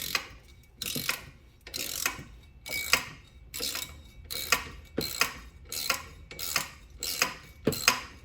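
A T40 Torx bit on a ratchet loosening a screw on a Can-Am Ryker floorboard, about a dozen evenly spaced clicking ratchet strokes, close and crisp, with no talking.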